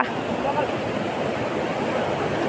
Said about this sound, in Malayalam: ഇതാണ് ഞങ്ങളുടെ പുഴ ഞങ്ങളുടെ സ്വന്തം പുഴ